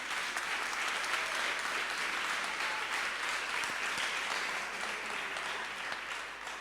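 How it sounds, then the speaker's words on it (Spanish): A church congregation bursts into steady applause, a thick wash of many hands clapping continuously for several seconds at an even level, with faint voices mixed in. "¿quién da un aplauso al único que nos puede dar esa sabiduría?"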